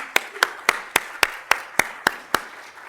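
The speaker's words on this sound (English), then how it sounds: "Give them a round of applause." Slow, evenly spaced single claps, about nine in three seconds, close and distinct against a quiet room during a museum art talk, rather than the dense wash of a full crowd.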